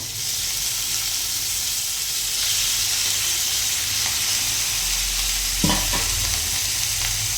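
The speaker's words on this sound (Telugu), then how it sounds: "ఇప్పుడు ఇదైతే ఫ్రై చేసేద్దాము" Small, washed chicken pieces fry in hot oil for chicken egg fried rice, a steady dense sizzle throughout with a couple of brief stirring knocks near the end; no voices.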